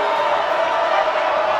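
A high school basketball crowd at a Truman game roars and cheers in a gym, a dense, loud wash of voices that holds steady for a brief moment.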